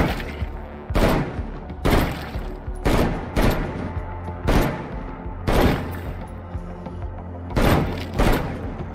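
Repeated loud bursts of gunfire in the State of Decay 2 game, about eight sharp volleys at irregular intervals, close and punchy against a quieter background.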